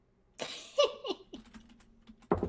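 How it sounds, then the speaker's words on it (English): Typing on a computer keyboard gives a few scattered clicks and taps amid short bursts of other close, uneven noises, then a sudden louder clatter at the end. "You'll be able to hear the typing, but the outside can't."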